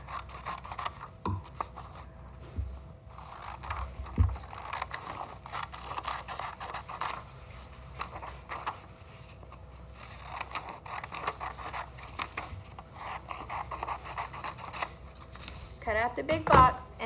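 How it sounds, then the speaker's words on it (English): Scissors snip and scrape through paper while a paper box is cut out. Sparse rasping cuts recur over a long stretch, with a brighter flurry of snips near the end and faint voices in the background. "So y'all get your scissors and let's look at how we're going to put this together."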